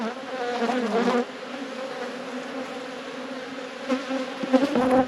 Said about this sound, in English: there's a heap of bees down there as well